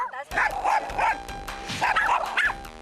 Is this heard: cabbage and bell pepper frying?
no